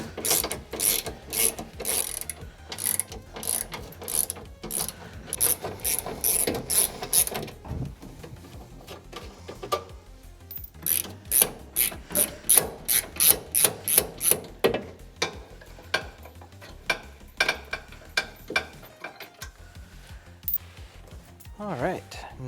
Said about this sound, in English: we got to remove these two 13mm bolts right here